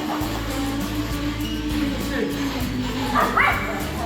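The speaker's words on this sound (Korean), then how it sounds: "짖고 있네" A dog in a dog park gives a few yipping barks and whimpers, mixed in with people talking nearby over steady background noise.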